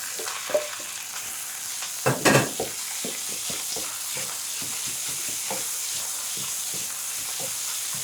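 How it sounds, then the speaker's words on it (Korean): Meat marinated in red wine sizzles and hisses as it is stir-fried in a pot, a steady close fry with repeated scraping stirs and a louder burst of steam near the start. "고기가 이게 수분이 날아가면서 고기가 볶아지면서"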